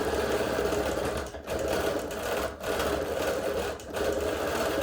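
A sewing machine stitches curved crosshatching and leaves on a show quilt, its fast mechanical chatter running in loud, even bursts broken by three brief pauses.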